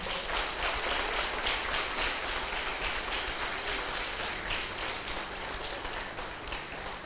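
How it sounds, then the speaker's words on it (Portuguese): Applause from a church congregation during a Portuguese-language sermon, a dense, even wash of clapping sounding somewhat distant and rain-like, continuous throughout. "Aplauda ele bem forte."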